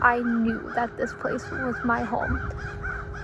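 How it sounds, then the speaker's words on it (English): Birds calling outdoors on a college campus, a run of repeated raspy, crow-like caws sounding under a woman's continuous speech. "Sorry about the birds if you can hear them."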